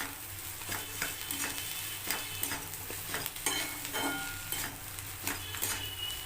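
Egg bhujia with vegetables and coriander leaves frying in a pan, with a steady low sizzle and frequent rhythmic taps and scrapes from stirring, close and moderately quiet.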